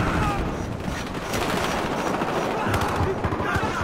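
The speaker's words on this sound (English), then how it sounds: "Shot that dude point blank with the shotgun." Shotgun fire in the video game Battlefield Hardline comes as loud, dense, rapid gunfire bursts that run continuously through the whole stretch.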